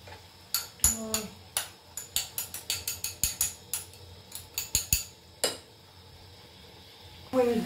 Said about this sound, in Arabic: نخلط هادشي وغادي نزيدو على المقله